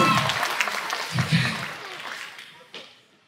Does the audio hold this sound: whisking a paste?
no